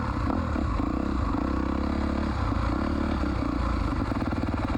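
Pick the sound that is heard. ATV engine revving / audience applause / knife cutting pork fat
ATV engine revving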